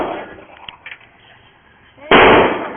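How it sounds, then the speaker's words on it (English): At a shooting range, a single loud, sharp gunshot cracks close by near the end, after a couple of seconds of quiet handling noises. "Now it's loaded and ready to fire."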